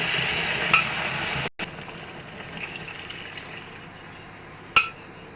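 Boiled lentils poured into a hot pan of fried okra, a steady sizzle with a sharp clink near the start, a brief break, then continued sizzling and another clink near the end, no talking.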